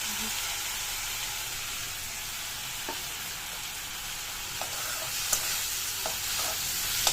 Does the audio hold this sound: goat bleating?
no